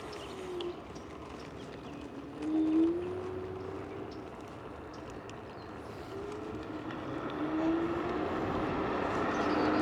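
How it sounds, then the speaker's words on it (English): A 1200W ZU06 commuter electric scooter accelerates hard in gear 4, its motor whine climbing steadily in pitch over a constant rush of wind and road noise, with a brief louder swell near the start. "gear 4's got a pretty strong acceleration"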